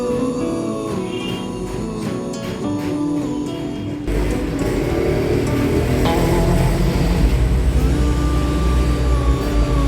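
A budget video tripod head is loosened, swung around and tightened again, giving close grinding, creaking mechanical turns and ratcheting clicks over a steady background rumble, with no talk.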